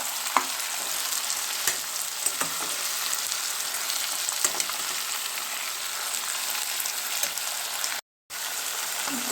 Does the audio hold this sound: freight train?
no